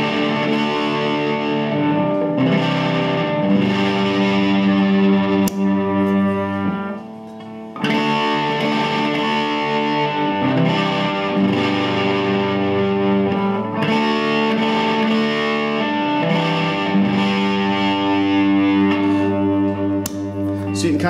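Electric guitar driven through a Harmonic Percolator fuzz pedal with its two-way Abilene switch set down, giving a bright, sparkly distorted tone as sustained chords ring out steadily and fairly loudly with a brief dip in the middle.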